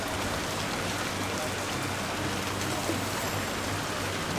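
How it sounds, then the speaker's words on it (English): Steady rain falls outdoors, a dense even hiss of drops spattering on surfaces that holds unbroken throughout, fairly loud and close, with no voices over it. "enjoy the rain"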